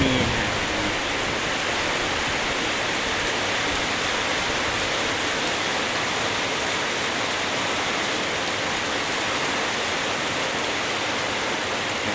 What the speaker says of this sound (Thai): ตอนนี้ถึงได้ปล่อยน้ำฝน